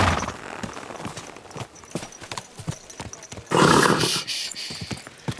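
Rhythmic horse hoof clops on hard ground in the video game Kingdom Come: Deliverance II, steady and fairly close, with a sudden loud, bright horse whinny bursting in about two-thirds through.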